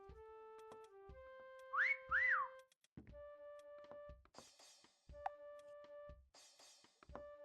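Close whistling, a few sliding up-and-down notes that rise and fall, mixed with steady electronic tones and beeps from a meccha chameleon toy, with short pauses between.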